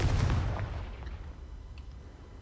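A Confringo blasting spell detonates in the video game Hogwarts Legacy, one loud, close boom at the start that rumbles and fades away over about two seconds.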